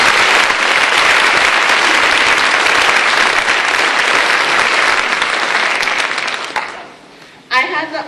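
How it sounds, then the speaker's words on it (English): An audience at a college lecture event gives a long, loud round of applause that fades out near the end, followed by a brief burst of speech. "So if I can get a hand round of applause, please."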